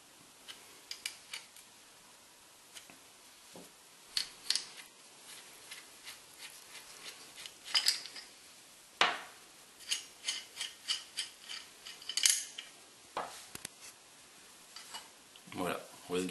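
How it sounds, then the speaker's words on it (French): Two 12 mm bolts being undone from the wastegate of a Garrett 49173 turbo on a 1.6 HDi 90 hp DV6 engine, heard as quiet intermittent ratchet clicks and metallic taps over about sixteen seconds, with bursts of tool noise and no clear talk. "Et ensuite on démonte les deux vis de 12 pour commencer à démonter la wastegate."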